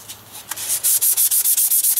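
Emery cloth rubs back and forth on a painted wheel hub of a 1989 Chevy S10, close and loud, settling into a quick even rhythm of about ten rasping strokes with no talking.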